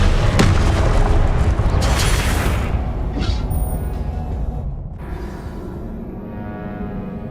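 A Confringo blasting spell bursts into a loud, deep booming explosion in the Hogwarts Legacy video game, its rumble rolling on and slowly fading over several seconds.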